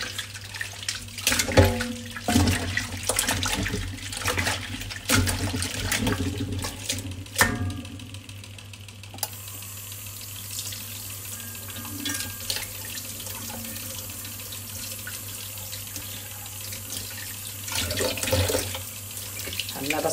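A kitchen tap runs steadily while food is washed under it in the sink, water splashing and gushing close up with clatter of handling, the flow changing pitch partway through.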